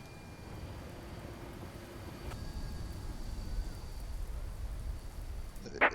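Rain begins in a flight simulator game, a soft, even patter of drops with low rumble underneath that builds slightly toward the end.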